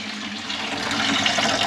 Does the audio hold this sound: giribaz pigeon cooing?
no